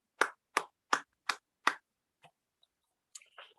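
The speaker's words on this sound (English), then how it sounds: "Let us first applaud the speaker." Five crisp hand claps at a steady, even pace in a quiet Toastmasters meeting room, followed by a few faint scattered taps; the clapping sounds sparse rather than like a full crowd.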